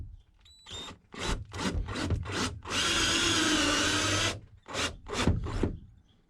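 A cordless power drill drives a stainless steel screw into wood on a teardrop camper build, with several short bursts, then one sustained whining run, then a few more short pulses, loud and close.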